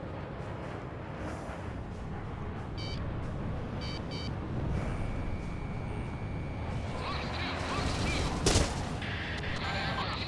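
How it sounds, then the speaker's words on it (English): A missile striking the player's jet in the flight combat game Ace Combat 6, with dense continuous rumble and gunfire-like bursts, short beeping warning tones, and a sharp loud impact crack near the end. "Warning, incoming missile."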